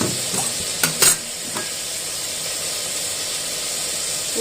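Tomatoes and turmeric sautéing in a pan for chicken biryani give a steady sizzle, broken by a few scraping stirs of a spoon early on before the frying hiss settles evenly.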